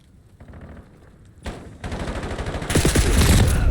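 Rapid gunfire from a competitive esports video game match builds from sparse shots into dense, loud bursts of automatic fire, growing more intense toward the end with no talk.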